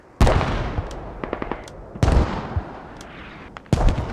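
Three loud, heavy mortar blasts in the tactical shooter Squad, spaced a couple of seconds apart, each a sharp boom trailing into rumble, with scattered smaller cracks of gunfire between them.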